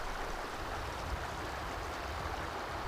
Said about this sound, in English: Especially here along Jumping Pound Creek.